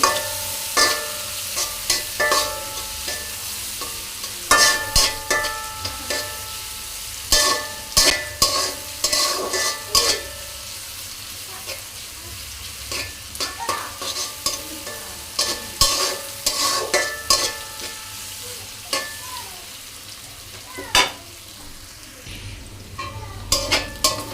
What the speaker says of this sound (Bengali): দিয়ে দিব পেঁয়াজ কুচি পেঁয়াজগুলো একটু ভালো করে নেড়ে ছেড়ে ভেজে নেব